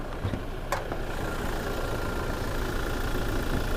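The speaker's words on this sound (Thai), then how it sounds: "เดี๋ยวผมเปิดเครื่องยนต์ให้ดูดีกว่า" A Toyota Hilux Revo 2.8-litre diesel pickup engine idles steadily with a low, even rumble and no revving, close by and alone.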